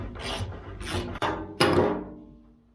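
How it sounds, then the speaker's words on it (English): A socket wrench works the gas tank bolts on an Oliver tractor, giving three or four short, close, rasping ratchet bursts with brief pauses between them. "Let's try this with a socket"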